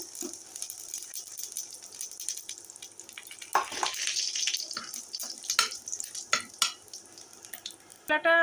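Cardamom, cinnamon, dried chillies, bay leaves and cumin fry in hot oil for a vegetarian khichuri, a light sizzle with scattered rattling and scraping stirs that grow busier and louder toward the end.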